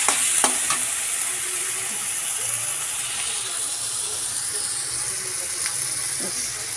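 Ground onion, garlic, ginger and chili paste frying in a pan, a close, steady hissing sizzle with a few sharp spattering pops near the start and occasional stirring scrapes, no voices.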